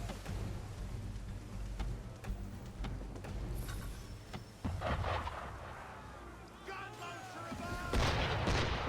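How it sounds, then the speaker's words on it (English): Gunfire from the game Assassin's Creed III, several sharp shots spaced across a noisy outdoor scene with a rain-like wash and rumbling booms, moderately loud with no talking. "Why is he shooting at us?"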